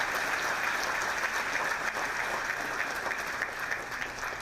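A large audience at the inauguration of Milwaukee Mayor Cavalier Johnson applauds the Milwaukee Fire Department, a steady, dense wash of clapping that holds evenly from start to end.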